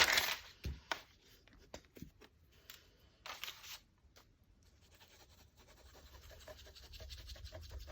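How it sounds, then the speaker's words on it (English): Tracing paper glued onto a sheet of paper is torn by hand in short, dry ripping and scratching bursts up close, then fades to a quieter rustle. "glue this tracing paper on to this piece of paper and then tear round"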